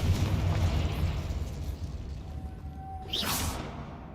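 A Confringo fire-blast spell goes off in Hogwarts Legacy, a bright bursting whoosh near the end that rises over a steady rumbling game ambience, with a thin tone just before it.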